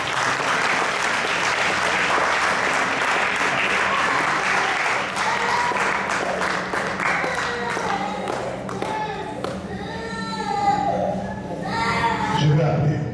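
A church congregation claps and applauds to acclaim the Lord during a seminary ordination service, with dense sustained clapping filling the room, children's voices and scattered crowd noise mixed in as the applause thins toward the end.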